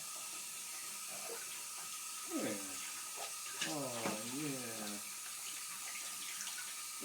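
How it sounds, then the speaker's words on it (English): Tap water pours continuously into a baby bath tub, a steady close splashing rush, while an adult speaks briefly and a baby vocalizes over it. "Let's keep that water coming."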